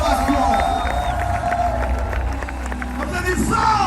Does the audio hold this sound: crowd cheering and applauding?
yes